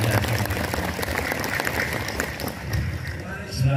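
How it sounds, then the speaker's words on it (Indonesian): An outdoor crowd applauds at the inauguration of a PSHT martial arts training hall in Wuluhan, Jember: a dense, continuous wash of clapping mixed with crowd noise and some voices, fairly loud throughout. "Tepuk tangan saya."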